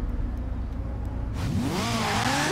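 Ferrari F40 engine in Forza Horizon 4: a low idle rumble that swells into a loud, close rev, pitch climbing and wavering as the car pulls away.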